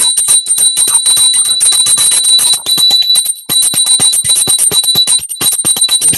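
A small altar bell rung repeatedly in quick, steady strokes during a shamanic altar activation, its bright sustained ring holding close and loud throughout with a brief pause near the middle.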